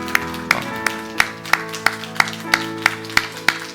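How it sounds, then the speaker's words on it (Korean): Church congregation clapping along in a steady beat during a Sunday worship service, sharp regular claps roughly three per second over held organ or keyboard tones. "여러분 뜨거운 박수로 축복"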